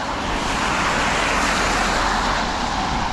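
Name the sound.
car driving past on a wet road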